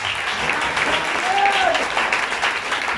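Steady applause from a church congregation fills the space, with a voice briefly audible over the clapping.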